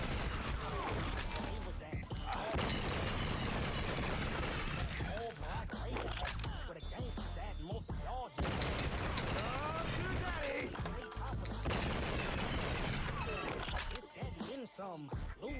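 Desert Eagle pistol shots loaded with hollow point rounds ring out in True Crime: Streets of LA, several sharp bursts scattered through steady talking and a dense game soundtrack.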